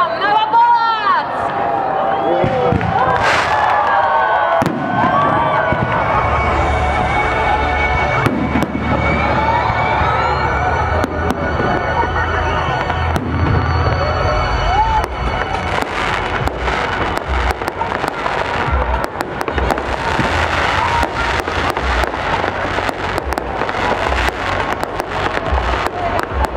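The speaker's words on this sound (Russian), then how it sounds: "небо над нашим городом расцветит праздничный салют" A festive city-day fireworks display in Novopolotsk bursts and crackles continuously, with loud booms and dense crackling throughout while a crowd murmurs beneath.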